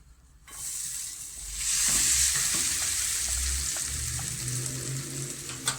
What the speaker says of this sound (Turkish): 2 yemek kaşığı kadar döktüğümüz sıvı yağı ısıtılmış tavaya patateslerimizi alıyoruz